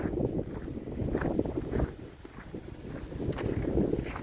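Strong wind buffets the microphone on a Moscow street in heavy, low rumbling gusts that rise and fall without pause.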